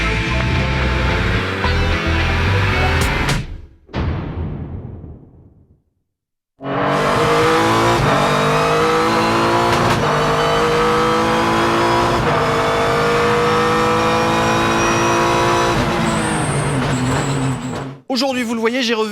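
Renault RS 01 race car engine revs hard and loud, rising and holding high-pitched tones, cutting briefly to silence before roaring back in a long sustained high-rev wail, then stopping abruptly.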